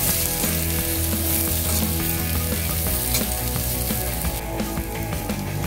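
Potato fry sizzling steadily in a hot pan as chopped coriander leaves are stirred in, a continuous close frying hiss with light scraping under it, no talk.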